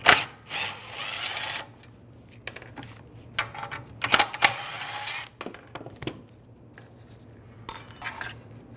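A ratchet with a 10mm socket takes heat shield screws off an exhaust manifold catalytic converter assembly for a 2013-2016 Dodge Dart, heard as close metallic rattles and clinks in short uneven bursts separated by quiet pauses.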